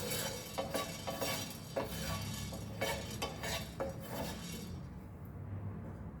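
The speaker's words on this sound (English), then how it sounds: "you can take the smaller pan to roast all this" Whole garam masala spices, including pepper, roasting in a small pan, with steady scraping and stirring clatter and light sizzling, close and moderately loud, with no talk.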